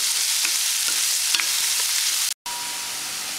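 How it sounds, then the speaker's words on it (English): Chopped onion frying until golden brown for chole masala, a loud, continuous sizzle with a few faint stirring clicks and a brief dropout near the end. "Cook, fry till it becomes golden brown."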